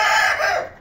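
White bantam chickens close by letting out a loud, short, harsh crowing call that fades away within a second.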